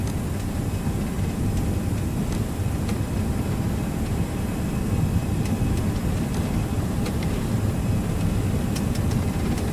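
Airbus A320 engines at takeoff thrust in the Prepar3D flight simulator, a steady, loud, continuous roar with a deep rumbling low end that holds level throughout, with no voices.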